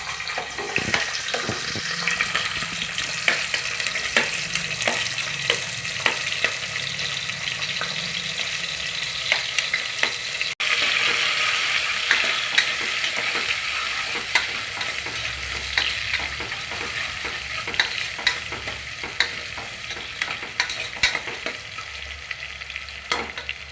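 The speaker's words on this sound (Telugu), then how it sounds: "ఆయిల్ ఇటెక్కాక ఇప్పుడు ఆనియన్స్ పచ్చిమిర్చి వేసుకుందాం." Sliced onions and green chillies frying in hot oil for a mutton curry: steady close sizzling with repeated stirring scrapes and clicks of a utensil against the pan throughout, with no talk.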